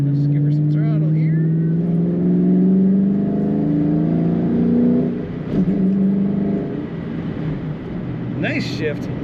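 A 2003 Ford Mustang Mach 1 V8 accelerates from inside the car, a loud low engine drone rising steadily in pitch, then dropping with a gear shift and settling into a lower rumble.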